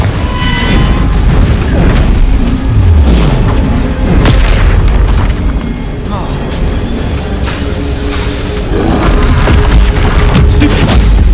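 Booming Confringo fire-spell blasts in the Hogwarts Legacy video game, a dense run of heavy explosive impacts filling the whole stretch with rumbling low end and crackling bursts, loud and close.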